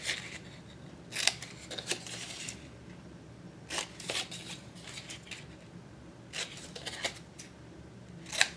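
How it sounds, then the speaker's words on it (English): Scissors snip through paper while trimming the corners of a handmade flap-and-pocket mini album: a series of short, crisp cuts spaced a second or more apart, close and fairly quiet over a faint room hiss. "So all 4 corners are going to get trimmed."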